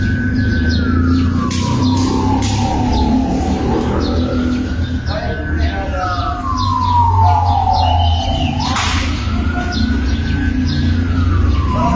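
A local police car siren wails loudly and close, rising and falling in long sweeps over steady street noise, with birds chirping faintly in the background and no voices.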